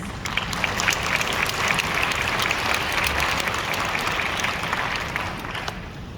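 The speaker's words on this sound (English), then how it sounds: "So please give him a big round of applause." An audience applauds an award winner at a landscape architects' congress opening ceremony, giving steady, dense clapping that fills the room for several seconds and thins slightly at the end.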